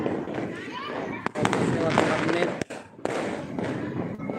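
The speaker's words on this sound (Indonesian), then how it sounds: "Petasan kembang api di mana-mana." New Year's Eve fireworks and firecrackers crackle and pop in bursts at a distance over Makassar, with someone talking over the noise.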